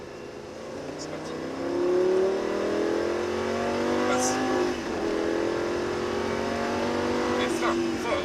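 A Lamborghini Gallardo LP-560 accelerates on the Mettet circuit, its engine note rising steadily and holding near and loud, with a brief dip and recovery midway; someone speaks briefly over it.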